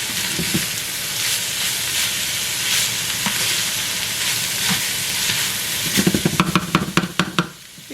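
Ground meat sears and fries in a lightly oiled pan for shepherd's pie, giving a steady close sizzle with soft crackle throughout and a burst of sharper pops and spits near the end.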